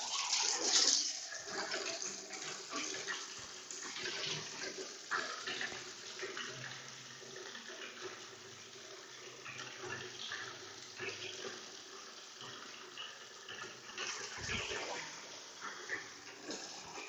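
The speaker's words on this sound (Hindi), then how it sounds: "तो अभी हम वाटर ऑन करते हैं।" Running water sprays and splashes continuously onto a Studds Ninja Elite helmet for a long stretch, a steady hiss with occasional shifts, recorded fairly quietly and close by.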